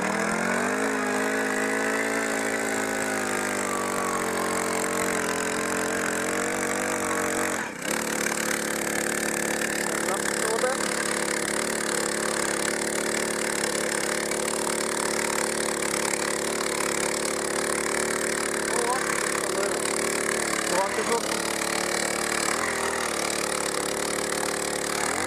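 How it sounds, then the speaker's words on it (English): A loud, continuous motorized whine of a drill boring into cedar wood while building a lakeside dock drones on close by for the whole clip, steady and unbroken apart from a brief knock early on. "Gonna drill the hole now."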